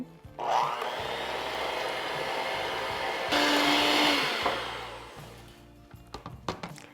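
Electric hand mixer beating cookie batter for s'mores cookies after two eggs are added, a loud steady whir that rises in pitch midway, then stops and leaves brief clatters.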